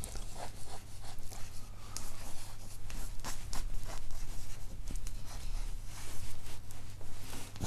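Pen or marker scratching out equations by hand with Fresnel vectors, a busy run of close strokes and taps, continuous and fairly quiet with no talk.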